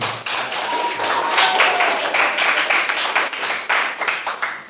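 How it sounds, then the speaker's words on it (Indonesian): A room full of people claps in a dense, continuous burst of applause, close and loud, with a faint voice mixed in. "Oke, tepuk tangan buat Ulfi."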